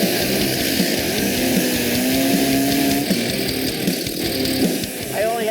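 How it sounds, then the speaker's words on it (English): A chainsaw carving a wooden buffalo out of a house joist, its engine droning steadily and loudly up close with slight pitch wavers as the bar bites into the wood. "I only have one shot at carving this buffalo with a chainsaw."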